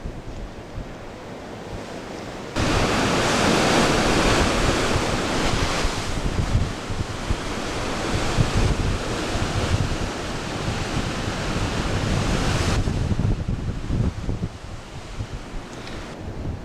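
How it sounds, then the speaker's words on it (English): Sea swells and waves rolling on the open sea off Norway, a steady loud wash with heavy wind buffeting the microphone, swelling stronger for about ten seconds before easing back. "The seas are starting to build a little. We're starting to feel the ups and downs of the swells."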